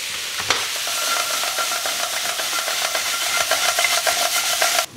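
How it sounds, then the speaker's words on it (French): Apples cooking with sugar in a pan give off a steady, bright sizzle, with light stirring scrapes and occasional soft pops over the continuous hiss. "Les pommes sont en train de cuire tranquillement"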